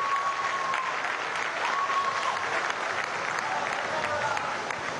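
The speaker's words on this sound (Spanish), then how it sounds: "Vamos a darle un aplauso a la lluvia" Steady applause from a large crowd at an outdoor farmers' march rally in the rain, dense and sustained, with rainfall mixed in.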